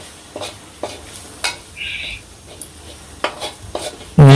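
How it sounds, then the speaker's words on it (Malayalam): Coriander and turmeric powder stirred in a frying pan for buffalo heart roast, with scattered scraping taps of a spoon against the pan at an uneven pace over a faint sizzle, ending in a louder knock. "മല്ലിപ്പൊടിയും മഞ്ഞപ്പൊടിയും ഇട്ട് കൊടുത്തിട്ട് നല്ലവണ്ണം ഒന്ന് ഇളക്കി യോജിപ്പിക്കുക."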